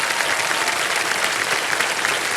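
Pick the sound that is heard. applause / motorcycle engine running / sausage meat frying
applause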